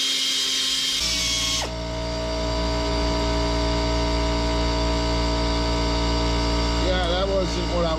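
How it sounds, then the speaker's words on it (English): A steady mechanical hum with strong harmonic tones runs throughout, likely from the air compressor powering an air ratchet used on 5/16 transmission cover bolts of a Ford Taurus, with a brief burst of high hiss at the start and faint rattling near the end. "The transmission cover bolts are 5/16. I'm using my air ratchet."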